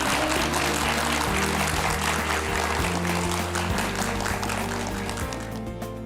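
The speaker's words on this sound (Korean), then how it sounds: "오늘 좋은 강연 함께 들려주신 우리 최 사장님께 다시 한번 박수 보내드릴까요?" A lecture audience gives dense, sustained applause for the speaker at an economics talk, loud and continuous, with music playing underneath and the clapping easing slightly at the end.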